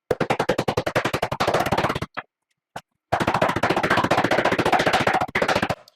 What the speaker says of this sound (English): So I'm going to pound it between two sill pats here.